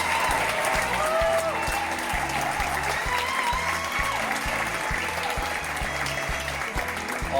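Audience at an award ceremony applauding in a sustained, even wash of many hands, steady and fairly loud for the whole stretch.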